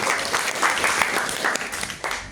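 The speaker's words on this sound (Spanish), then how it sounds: "Eso, un fuerte aplauso." A class breaks into strong applause, dense steady clapping from many hands in an indoor room, lasting a couple of seconds with no talk over it.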